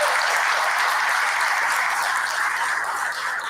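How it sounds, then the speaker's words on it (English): An audience at a school board of education meeting applauds a newly appointed high school assistant principal, a full, steady wash of clapping that holds at an even level throughout and eases slightly only at the very end. "Let's give her a round of applause."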